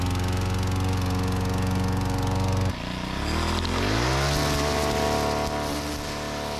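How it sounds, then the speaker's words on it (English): A lawn mower engine drones loudly and steadily nearby as it cuts grass on a vineyard floor, its pitch dropping and shifting partway through as the load changes. "We mow the vineyard floor."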